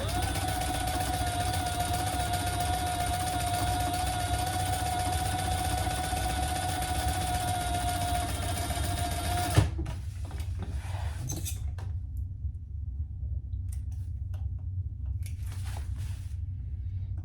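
A sewing machine top stitches a crossbody bag in a steady, sustained whir for about ten seconds, then stops, leaving a low background hum.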